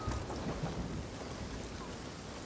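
A thunderstorm on the open sea in the video game Sea of Thieves, with rumbling thunder and steady rain hiss close around, a continuous wash of storm noise and no speech.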